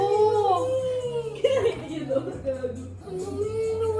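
A dog howls in long, wavering tones, with talk and other voices mixed in close by.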